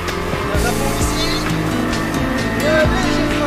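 A Lamborghini LP560 at full throttle on the Frontange race circuit, its engine roaring loud and close with pitch sweeping up through the revs, while an instructor talks over it.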